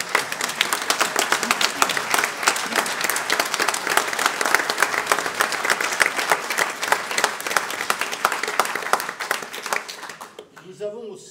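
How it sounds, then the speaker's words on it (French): A theatre audience breaks into sustained, dense applause for a volunteer called out during a stage play, loud and continuous for about ten seconds before fading out abruptly. "tu te lèves, qu'on t'applaudisse"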